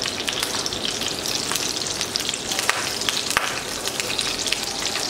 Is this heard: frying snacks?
yes